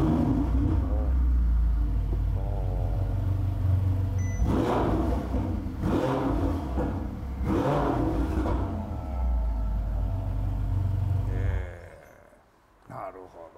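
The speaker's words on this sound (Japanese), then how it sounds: "エンジンかけますね。" A Ferrari 488 Pista Spider engine with stock exhaust rumbles at idle, then revs sharply in several quick bursts before cutting out, with voices talking faintly over it.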